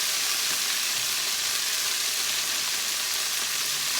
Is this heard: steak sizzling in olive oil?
yes